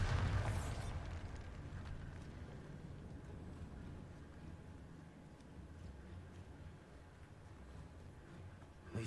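A Bombarda spell explosion from the video game Hogwarts Legacy goes off with a sharp, loud burst at the start, then fades into a low, lingering rumble for the remaining seconds.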